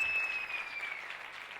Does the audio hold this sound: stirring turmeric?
no